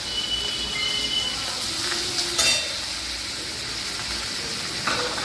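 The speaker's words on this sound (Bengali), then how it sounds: "এটা কিন্তু ভালো করে ভেজে দিতে হবে।" Spices and chillies fry in a pan with a steady close sizzle, joined by a few brief sharp clinks and a short louder crackle, no voices over it.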